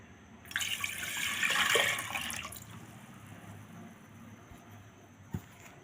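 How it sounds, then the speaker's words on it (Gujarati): A ladle of water pours into a pressure cooker in a brief splashing rush, followed by quiet dripping and a faint low rumble, with one small knock near the end. "ત્યાર પછી એક કરસિયો પાણીનો નાખી દેશું"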